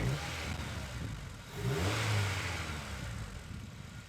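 A car engine fitted with a louder aftermarket intake revs up from idle in a smooth rising and falling pull, with a strong induction roar close by, then drops back to a steady idle.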